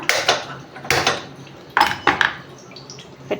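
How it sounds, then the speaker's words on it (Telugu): A few sharp metallic clanks and knocks as a pot is set down on a stove, spaced irregularly, close and fairly loud, with no voices. "నేను స్టవ్ మీద పెడుతున్నాను"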